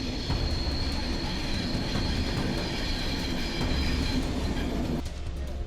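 A train rolls steadily along the tracks with a loud, continuous rumble and a metallic ringing whine, the sound staying close and even throughout.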